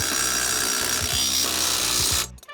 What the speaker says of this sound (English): You then want to tighten this nut